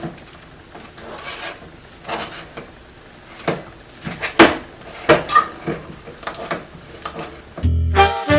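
Ripe bananas mashed in a bowl for banana bread batter, heard as a series of close, irregular squishing and scraping strokes against the bowl, with a heavier knock near the end and no talking.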